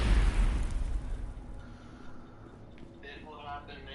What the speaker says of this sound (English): Threw my grenade again.